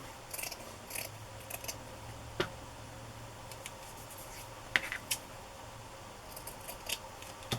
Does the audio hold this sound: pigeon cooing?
no